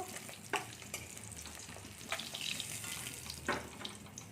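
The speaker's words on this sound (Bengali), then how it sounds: "বাকি মাছগুলো ভেজে নিই" Fish, likely bata, frying in hot oil in a home kitchen, with a steady sizzle and occasional sharper crackles and pops from the pan. The sound runs continuously and alone, with no voices.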